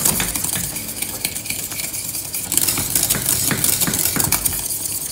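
A utensil stirring dark chocolate cream in a pot from the center outward, giving steady scraping and clinking against the pan, continuous and close.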